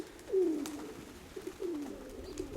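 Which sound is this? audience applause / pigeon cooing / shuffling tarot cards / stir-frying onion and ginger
pigeon cooing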